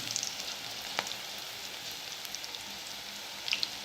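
Onion bajji fritters frying in hot oil, a soft, steady sizzle with faint crackles and a couple of sharper pops, close and quiet with no talk.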